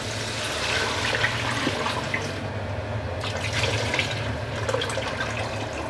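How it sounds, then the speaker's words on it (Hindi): Two litres of water gush steadily into a pot of beef nihari on the stove, a continuous rushing pour close to the mic with no speech. "मैं इसमें 2 लीटर पानी डालूँगी।"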